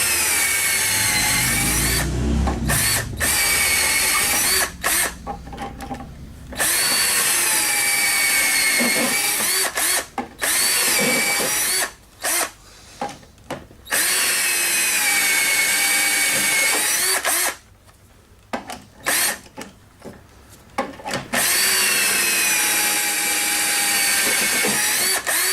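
A power drill bores two holes into a wooden rail held in a jig for a frame and panel, whining loudly in long runs with chattering cuts and short pauses between passes.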